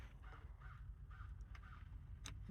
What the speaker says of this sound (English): Sounds like the crows are having fun out there.